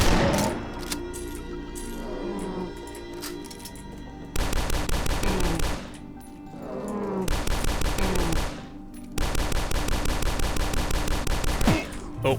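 Double-barrel shotgun blasts in the video game Dusk, with loud booming shots in quick succession alongside a continuous dense clamor of game gunfire and effects.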